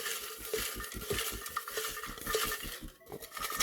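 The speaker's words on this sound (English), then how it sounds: "So give it a good shake, bit of a stir" Paper prize draw entries get shaken and stirred inside a container, giving a quick, rhythmic rattle and scraping of repeated strokes at moderate volume.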